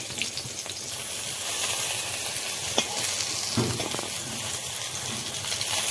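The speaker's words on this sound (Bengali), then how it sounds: "খিচুড়ির সঙ্গে পাঁপড় ভাজি আর বেগুন ভাজি দেখতে কি সুন্দর ভাজা হয়েছে বেগুনগুলো" Eggplant slices for khichuri fry steadily in hot oil, a close, continuous sizzle with occasional stirring clicks and scrapes, no speech.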